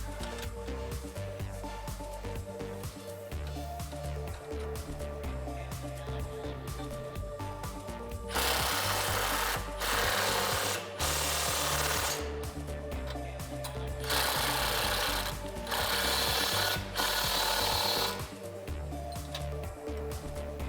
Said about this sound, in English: You can tighten down the nut. You'll need a 17mm socket to tighten down that nut.